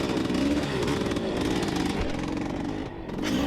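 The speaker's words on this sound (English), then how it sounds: "Looked like Craig pulled a wheelie there for a second, caught a little bit too much traction as far as I was concerned." Dirt bike engine in a cross-country XC race at Quiet Oaks through field and pine sections, a steady loud revving drone that rises and falls as the rider accelerates, heard alone without talk.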